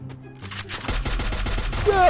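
Rapid automatic gunfire in a battle royale shooter, a quick stream of sharp shots building after a brief quieter start, with a voice speaking over it.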